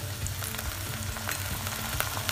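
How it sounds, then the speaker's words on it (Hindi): Spring onion whites sauté in a hot pan for an idli chilli dish, giving a dense, even sizzle with small crackles and faint stirring scrapes, close and continuous, with no speech. "इसमें स्प्रिंग ऑनियन का व्हाइट वाला पार्ट डाल देते हैं। और इसे सौते कर देते हैं।"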